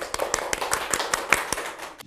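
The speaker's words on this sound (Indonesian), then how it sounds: "Tepuk tangan." A small group claps in a talk-show studio as the president director of PT Pelindo Usaha Citra is introduced, giving a short run of sparse, fairly close claps.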